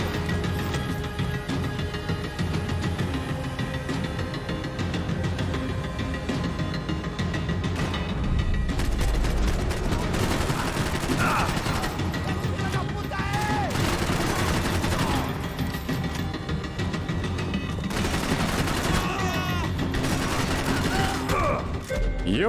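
Dense gunfire from the video game Max Payne 3 crackles in rapid, overlapping bursts and volleys of shots, with sharp impact and mechanical clatter; a voice occasionally speaks over the steady shooting.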